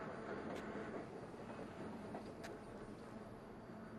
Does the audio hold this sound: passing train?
yes